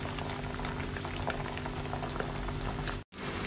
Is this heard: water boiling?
yes